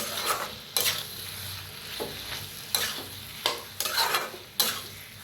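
A pumpkin dish is stirred in a pan, with spoon scrapes every second or so over a soft sizzle, close up with no talking.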